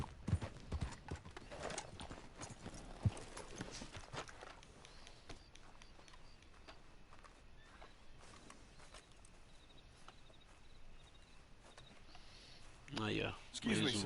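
Horse hooves clip-clopping on a dirt path in Red Dead Redemption 2, a steady, fairly faint trotting rhythm with quiet game ambience and a few louder clatters near the end.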